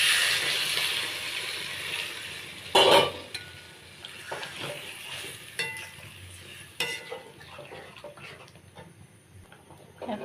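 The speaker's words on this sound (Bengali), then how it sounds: "এখন ভেজে রাখা ডিমগুলো দিয়ে দেবো আর জল দিয়ে দেবো" Pointed gourd curry sizzles in a pan as fried eggs and water go in, giving a loud splash and hiss followed by a softer crackle, with clinks and scrapes of a spoon against the pan.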